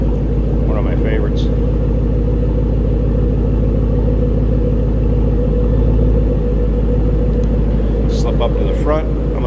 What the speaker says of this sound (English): Nice deep throaty growl out of that Borla.